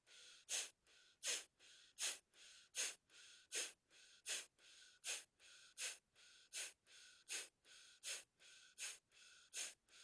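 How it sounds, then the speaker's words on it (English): People do a breath-of-fire exercise, forceful rhythmic nasal exhalations repeating about twice per second in an even, steady pulse, close and clear with no talking. "Breathe powerfully, in and out through the nose. Breath of fire."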